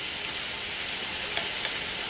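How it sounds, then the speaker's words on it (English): Chicken searing in a garlic butter chicken and potatoes pan, a steady broadband sizzle that holds alone throughout with a couple of faint pops and no talk. "I'm going to sear it on each side for 4 minutes."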